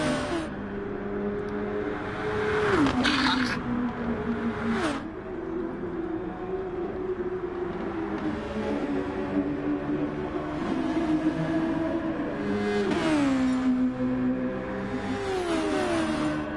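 A 1998 Formula 1 race car engine screams through corners in a racing video game set at Austria, its pitch climbing steadily and dropping sharply at several gear shifts, loud and continuous with no talking.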